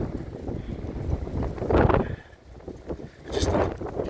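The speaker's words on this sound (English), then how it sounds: "Sorry about the wind." Gusty wind buffets a microphone on a walk through downtown Burlington, Wisconsin, with heavy low rumbling bursts rising and falling irregularly, loud and close, and no talk over it.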